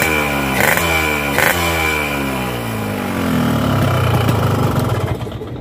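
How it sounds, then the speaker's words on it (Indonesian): A two-stroke motorcycle engine runs steadily at close range, briefly blipped twice early on, then settling back into a rough, buzzy idle before fading slightly at the end. "Suara mesin sih menurut gua masih lumayan terkendali."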